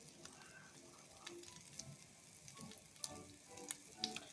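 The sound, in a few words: carrots frying in a pan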